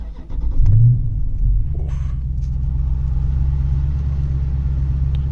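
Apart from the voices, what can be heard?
Dodge Challenger 392 SRT Hemi engine starting and rumbling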